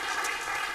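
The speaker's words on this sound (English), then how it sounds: "I'd like to do another round of applause for all of the panelists" Steady applause from a conference audience for a panel of speakers, a dense even wash of many hands clapping with no pauses.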